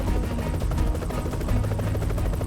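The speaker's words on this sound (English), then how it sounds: "And here it is, the saw." An aerial saw hangs from a helicopter trimming trees along a power line right-of-way. A steady, heavy rotor roar and engine drone carries through the whole stretch with no break, and any saw whine is buried in it.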